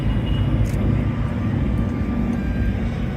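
A jet airplane passes at a Florida airshow, a loud, steady low roar with a faint thin whistle on top, sustained throughout and unaccompanied by speech.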